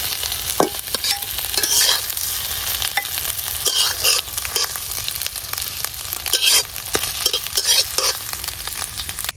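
Egg frying in a pan for a hot rice breakfast, a steady close crackling sizzle with scraping stirring sounds and spatula knocks throughout, no talk.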